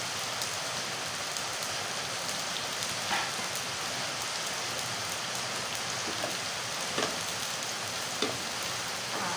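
Garlic fries in a pan for adobong talong, giving a steady, dense sizzle with occasional soft pops and stirring clicks. No one speaks over it.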